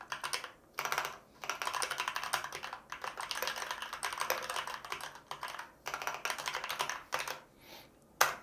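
Rapid, steady typing on a computer keyboard while entering a blog title, a dense run of clicks with brief pauses between bursts, close and alone with no talking.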